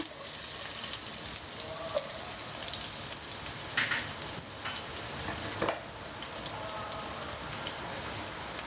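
Chopped onion fries steadily in a small amount of oil, giving a continuous close sizzle with a few brief scraping stirs and clinks, and no voices.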